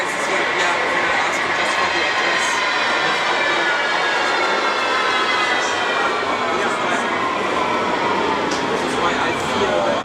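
A Berlin tram ride from inside the car: a steady, loud rolling rumble and hum of wheels and motor, unbroken throughout, with faint voices of passengers mixed into the noise.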